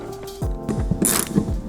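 Locking nut being run down onto a strut top hat on an air suspension bag, a quick series of short ratcheting clicks close by with no voices.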